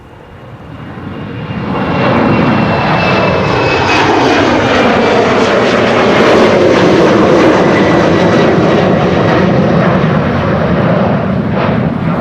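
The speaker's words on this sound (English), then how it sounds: "It's an Embraer 190 going to Nuremberg." A KLM Embraer 190 jet at Amsterdam Schiphol roars loudly and steadily, its engine noise building over the first two seconds and then holding a broad sustained rumble with a faint whine, with no voices.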